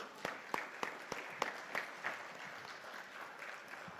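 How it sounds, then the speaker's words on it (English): An audience applauds at the India Business Leader Awards ceremony, with sharp individual claps standing out over a steady, moderately loud wash of clapping that gradually thins out. "a big round of applause."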